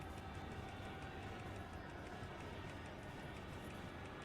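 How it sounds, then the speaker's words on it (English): Freight cars rolling behind a locomotive in a train simulator game make a steady, dense rumble with faint rhythmic clatter. The sound is continuous and quiet, with no talking, and holds evenly throughout. "You can already hear the freight cars that I'm towing they're little bugging out with their sounds."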